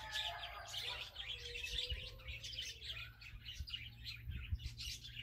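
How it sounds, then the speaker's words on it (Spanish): Small birds at a zoo aviary in Quiché, Guatemala chirp and tweet in quick overlapping bursts, bright and moderately close, over a low steady background hum. "aquí tenemos no sé cómo se llaman, pajaritos."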